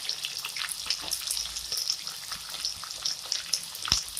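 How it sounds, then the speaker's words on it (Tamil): Onion and garlic frying in a pan, a steady bright sizzle with small crackles and occasional spoon scrapes, close and continuous with no talking. "இந்த இடத்துல வெங்காயத்தை போட்டுக்கலாம்."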